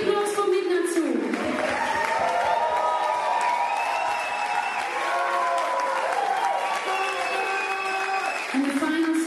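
Concert crowd applauding and cheering at a show near the end of a tour, a dense wash of clapping under loud sustained music and voices throughout.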